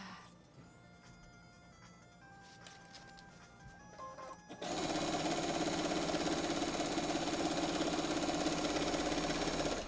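A sewing machine doing free motion quilting in loops starts up partway through, after quieter mechanical sounds, then runs loud and continuous at a steady fast rate.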